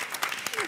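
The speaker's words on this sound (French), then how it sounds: "On vous applaudit en tout cas." Studio audience applauding on a French television dating game show, a steady dense wash of clapping that runs the whole short moment at moderate volume without a break.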